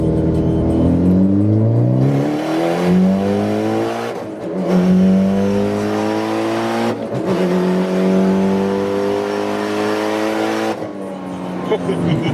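A Mitsubishi Evo X's exhaust rises and falls through several revs, with climbing tones and turbo whistle and whoosh, loud and close, while excited voices talk over it.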